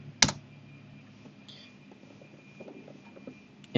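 A few scattered keystrokes tap on a computer keyboard as a short command is entered in a drafting program, quiet, separate clicks set against a hushed room.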